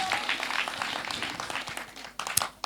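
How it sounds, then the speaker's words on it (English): Church congregation clapping for the single ladies, a moderate burst of mixed clapping with some voices under it, thinning toward the end before a few last sharp claps. "Can we clap for those single ladies"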